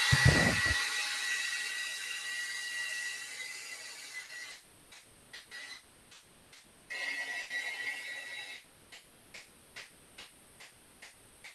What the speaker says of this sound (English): Use the handy dandy daughter's hair dryer